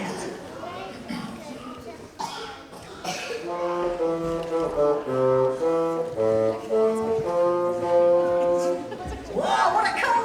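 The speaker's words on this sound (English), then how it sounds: "it's a great big long one, and it's called the bassoon" Bassoon playing a series of low, sustained notes in a concert hall, with audience chatter and murmuring before and after the melody.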